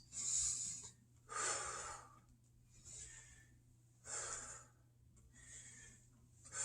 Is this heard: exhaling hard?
yes